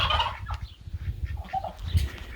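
Turkeys gobble at a poultry farm, a close burst of gobbling followed by scattered clucks and calls from the flock, with no voices.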